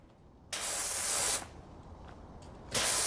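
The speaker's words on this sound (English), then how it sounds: "I can do an automatic spray." Pressure washer spray in the game Powerwash Simulator, a loud broadband hiss in two sustained bursts separated by a quieter gap, close and without talk.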